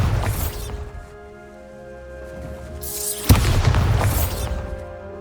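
Bombarda spell explosions in Hogwarts Legacy: two loud booming blasts, one at the start and a sharper crash midway, each followed by a crackling, ringing decay.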